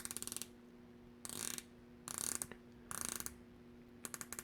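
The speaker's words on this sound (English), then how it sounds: "It's a 120 click unidirectional bezel, and it sounds like a machine gun going off." A 120-click unidirectional dive bezel on a BALL Engineer Master II Skindiver Heritage watch being turned, giving quiet, close bursts of rapid ratcheting clicks in several short runs separated by pauses.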